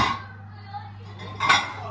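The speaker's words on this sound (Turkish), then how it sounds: "güzelce bulaşıklarımızı da yıkayalım" Dishes being washed at a home kitchen sink, with a few short clinks of pots and cutlery over a low steady hum, including one brighter clatter near the end.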